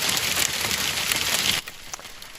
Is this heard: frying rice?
no